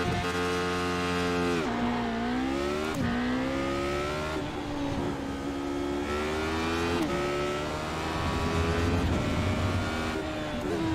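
Racing video game car engine revving through a practice start, with rising and falling whining pitch sweeps as it shifts through gears, loud and continuous without talk.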